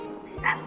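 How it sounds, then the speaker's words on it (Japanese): A single short dog bark or yip rings out briefly, fairly faint against a steady outdoor background hum. "そしてワンちゃんの声も聞こえていて"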